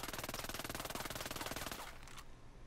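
Vector Shorty submachine gun in Ghost Recon Breakpoint firing full-auto, a rapid, even stream of shots for about two seconds with the trigger held, then cutting off into a short fading tail, no talking.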